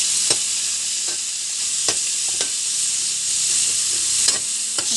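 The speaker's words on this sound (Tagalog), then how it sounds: "Po ako na ang bawang at luya at igigisa ko po itong shell." Sea shells sautéing with garlic and ginger in a hot pan, an even hissing sizzle broken by several sharp clinks and scrapes as they are stirred, close and loud, with no speech.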